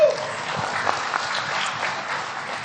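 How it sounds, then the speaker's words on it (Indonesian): Audience applause at an Indonesian political event with the NasDem party leader present, a steady, moderately loud wash of clapping that fades slightly, with no talk over it. "Tepuk tangan sekali lagi."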